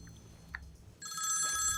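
A telephone rings in a dubbed South Indian action comedy film scene, a bright electronic ringing tone starting partway through and continuing steadily after a short stretch of quiet room sound.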